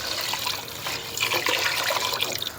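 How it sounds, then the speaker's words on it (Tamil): Water pours in a steady, continuous rush into a cooking pot of South Indian fish kulambu curry, close by and fairly loud for under three seconds, with no talking. "தண்ணி ஊற்றிக்கும்."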